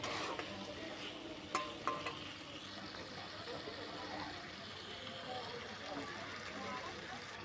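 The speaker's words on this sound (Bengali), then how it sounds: "এবার আমি আলু আর পটলটা এর মধ্যে দিয়ে দিলাম এবার আমি এই দুটোকে একসাথে কষাতেই থাকবো" Potatoes and pointed gourd stir-fried with spices in a pan, a soft continuous sizzle with a couple of sharp utensil clinks early on, fairly quiet and close.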